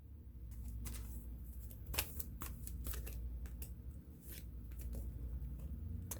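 A card drawn from a deck of song cards, soft shuffling and riffling clicks with rustling, faint and close over low background hum.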